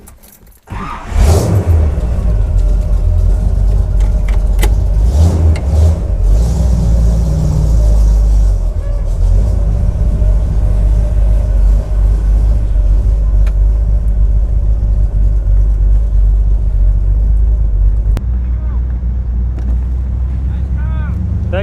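A 1965 Impala convertible runs down the road with a steady, loud, close engine rumble and heavy wind buffeting that continues unbroken from start to finish.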